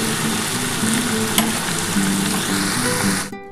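Malabar spinach stems and potatoes fry in a pan with a close, crackling sizzle and a few stirring scrapes, ending abruptly, with no voices present.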